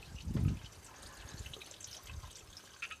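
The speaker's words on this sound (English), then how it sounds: "We actually have water running through and created this bog garden into the living room" Water trickles and drips through an indoor bog garden in the living room of a tent cabin home in California, a soft steady flow with a low splash near the start and faint bright drips later, alone without voices.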